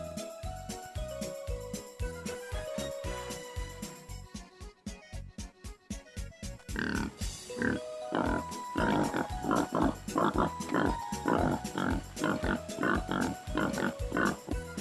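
Pigs grunt and squeal in quick, repeated bursts, some snorting close by over a busy background, with small piglet-like squeaks throughout.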